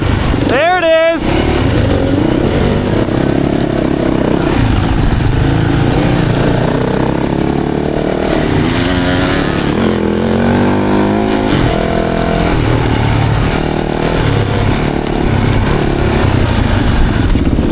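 A dirt bike motorcycle runs fast on an Arizona practice track, its engine buzzing loud and steady in a higher gear along the straights, with a brief rising rev at the start and people talking over the engine noise.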